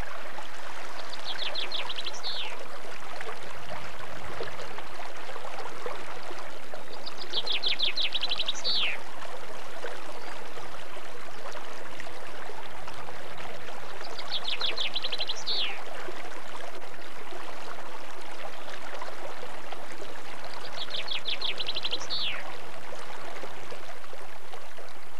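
Bright, sharp bird calls from a dipper by a tumbling upland stream, four short phrases at regular intervals over the constant rushing of the water.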